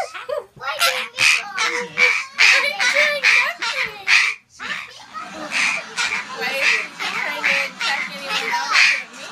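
Red Amazon parrot squawking in a home, loud harsh calls repeating in rapid bursts with a short pause midway, close to the microphone, and people talking now and then in the background.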